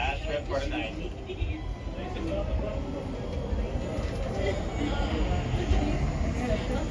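A Disneyland park train carries passengers on its last evening trip, its steady rumble and rolling clatter filling the space continuously at close range while people talk over it.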